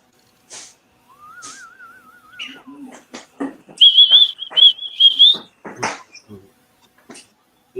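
A man whistles a wavering, warbling tune on a casual talk show, first a lower wobbling line and then a brighter, higher run of notes, with other voices chatting before and after.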